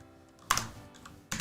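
Two short bursts of keystrokes on a computer keyboard during a football manager game session, close and fairly quiet, separated by a near-silent pause.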